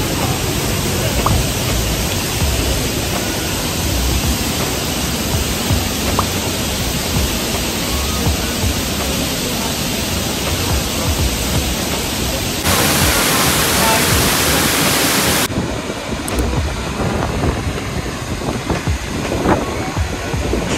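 Skógafoss waterfall in Iceland roars up close as a loud, steady wash of broadband noise, with wind buffeting the microphone and voices faintly under it.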